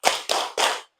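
Children in an Indonesian classroom clap the Tepuk anak soleh chant: three loud, sharp group claps in an even rhythm, each ringing briefly before the next, then silence.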